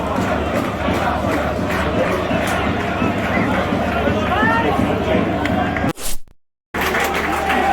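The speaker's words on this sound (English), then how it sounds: "Roars of the crowd every time Cambridge go forward" A football crowd roars steadily at a Cambridge United versus Burton Albion match, a dense wall of chanting and shouting that swells as the home side attacks, then cuts out briefly near the end before returning.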